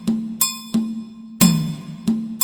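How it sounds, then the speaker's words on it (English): A 3 against 2 polyrhythm played as crisp percussive hits, a low pulse pattern and a higher accent pattern interlocking over a short repeating cycle with no talking. "So a 3 against 2 polyrhythm would sound like this."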